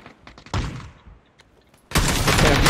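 Bursts of gunfire in the PUBG battle royale game, scattered shots and then a sustained loud volley near the end, alone with no speech.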